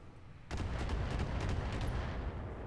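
Distant gunfire rumbles across a mech battlefield in the Roguetech mod, a sudden deep boom followed by a sustained low, rolling barrage of muffled shots.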